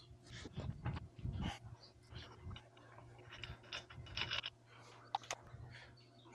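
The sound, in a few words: removing lug nuts from Honda Talon R wheel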